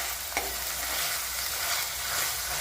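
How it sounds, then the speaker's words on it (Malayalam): Garlic and tomato stir and fry in oil in a pan, a steady close sizzle with brief scrapes of stirring, heard alone with no talk. "അടുത്തതായി നമുക്ക് കുറച്ച് തക്കാളി ഇടാം. തക്കാളിയും കൂടിയിട്ട് നല്ലതുപോലെ വഴഞ്ഞതിന് ശേഷം"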